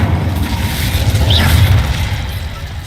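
Incendio fire spell cast in Hogwarts Legacy: a loud, sustained whooshing boom of magical flame that roars steadily throughout without clear breaks.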